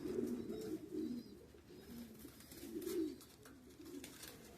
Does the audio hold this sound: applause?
no